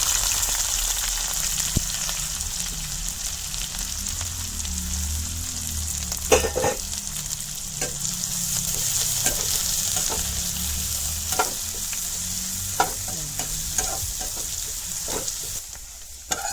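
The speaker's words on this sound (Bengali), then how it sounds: "পেঁয়াজ আর রসুন কাটিয়ে রাখলাম এখন এটা দিলাম" Sliced onion and garlic frying in oil with cumin seeds in a pan, a steady sizzling hiss broken by frequent scraping stirs and light clicks, close and uninterrupted, with no talking.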